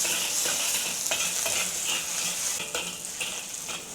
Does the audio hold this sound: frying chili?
yes